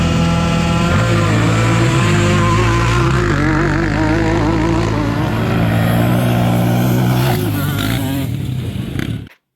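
Several ATV quads roar at full throttle in a drag race at an outdoor motorsport event, engines loud and continuous with rising revs and gear shifts, then cutting off abruptly at the end.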